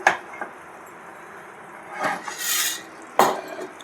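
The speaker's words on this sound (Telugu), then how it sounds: "ఇప్పుడు మనం స్టవ్ ఆపుకొని దించేసుకుందాం" A few clanks and scrapes of a metal pot of brinjal curry against a stove grate as it is taken off, with a brief rasping slide and a sharp knock near the end.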